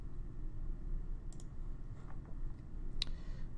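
A few sparse computer mouse clicks while a PowerPoint maze game's trigger object is tested, sounding faint and crisp against a steady low background hum.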